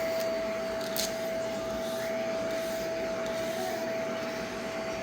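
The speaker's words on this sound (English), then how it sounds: "they like the vacuum brush better than the regular brush" A vacuum grooming brush runs on a dog with a steady, loud motor whine and a constant high tone, giving a continuous drone throughout with only a brief scuff near the start.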